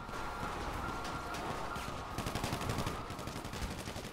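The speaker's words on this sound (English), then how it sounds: "Shots fired!" Rapid gunfire in GTA V during a semi truck pursuit and shootout, a dense run of sharp cracking shots that grows louder and more clipped in the second half, with no speech over it.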